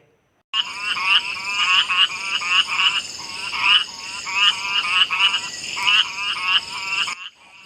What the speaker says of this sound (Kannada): ಇನ್ನು ಕಾಡಿನ ಕಪ್ಪೆಗಳ ಕಿರುಚಾಟ ಕೇಳಬೇಕೇ